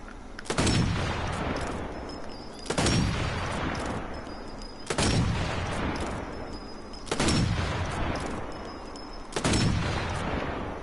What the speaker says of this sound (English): The first rifle is the M1903 Springfield, chambered in 308 Springfield